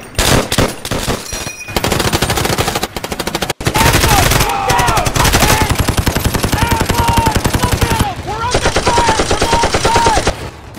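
Rapid machine-gun bursts and single gunshots rattle through a toy army men stop-motion battle, loud and near, with brief pauses between volleys and faint shouted voices mixed in.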